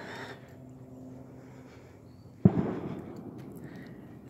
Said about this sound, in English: These fireworks.